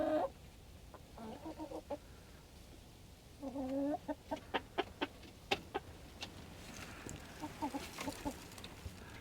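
Several chickens cluck and chatter nearby in short bursts, with a run of sharp, rhythmic clucks in the middle and softer murmuring calls around them.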